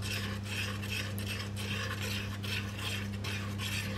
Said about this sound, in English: As soon as my chocolate's melted, I add my coconut cream. And you give it a really thorough stir